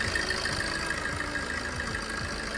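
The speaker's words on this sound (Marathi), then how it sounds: "आवाज थोडासा जास्त वाटत असेल कारण बोनेट आहे आणि डिझेल इंजिन जे आहे ते आवाज इतका करणारच." A Maruti Ertiga diesel engine idles with the bonnet open, a steady low rhythmic knocking chug under a constant mechanical hum, close and moderately quiet, with no talk.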